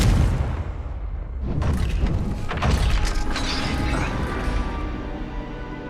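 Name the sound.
Confringo spell explosion blasting gate, Hogwarts Legacy video game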